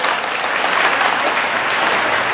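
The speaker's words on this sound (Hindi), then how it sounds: "ताली तो बजा दो" Dense, steady applause from a large gathering at a devotional darbar, continuous broadband clapping holding level throughout without a break.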